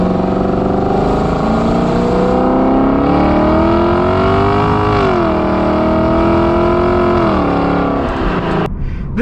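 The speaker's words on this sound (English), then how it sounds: "it just went from like straight like race car sounds" A 2020 Lexus LC 500 engine revving and accelerating loudly and close, its rising and falling harmonic roar sustained for several seconds, then a brief pause near the end.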